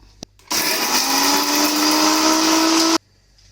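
An electric mixer grinder whirs loudly for a couple of seconds with a steady high-pitched motor drone, then cuts off abruptly.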